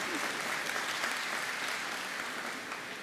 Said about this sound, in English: you can clap if you want